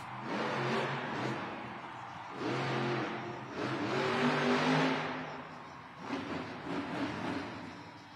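A monster truck engine revving at a Monster Jam arena event in Oklahoma City, loud throttle bursts rising and falling in several surges, near and alone without talk.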